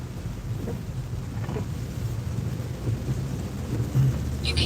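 Rain falling on a moving car during a drive through town roads, heard as a steady wash of patter over a low road and engine rumble, with occasional louder gusts and no talking.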